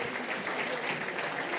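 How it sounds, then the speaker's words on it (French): Audience applause for the GFA Rumilly-Vallières players at their 2021-2022 season launch, a dense, steady wash of clapping that lasts throughout the short burst, with a voice mixed in. "On peut les applaudir très fort s'il vous plaît."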